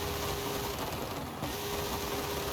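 A Porsche drag car in Forza Horizon 5 revs its engine high, a steady sustained whine with a faint dip near the middle, moderately loud with nobody speaking.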